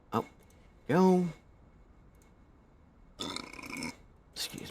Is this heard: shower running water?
no